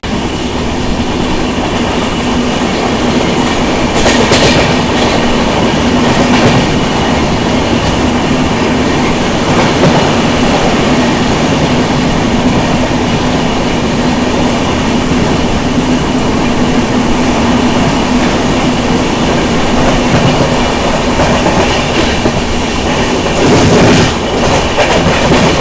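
A Rajdhani express train travelling on rails, heard as a loud, continuous rumble with rhythmic clickety-clack of wheels over rail joints and a steady hum, sustained throughout with no talking.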